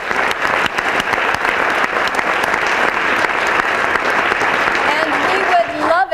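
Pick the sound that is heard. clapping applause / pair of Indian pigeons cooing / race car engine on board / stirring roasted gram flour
clapping applause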